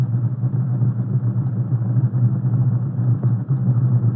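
Concrete mixer trucks roll slowly down oiled concrete forms on an open-air assembly line, filling them with concrete. A steady, heavy low engine rumble continues throughout, close and unbroken, with no talking.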